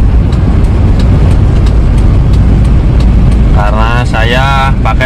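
A 2002 Toyota Kijang LGX 2.0 EFI engine rumbles loudly and steadily from inside the car, with someone talking over it throughout.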